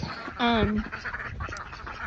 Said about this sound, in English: And the ducks are skittish.